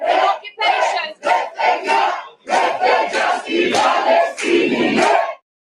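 A rally crowd gathered to hear Greta Thunberg chants and shouts in loud, rhythmic bursts of massed voices, close and energetic, with brief pauses between each collective cry before it stops abruptly.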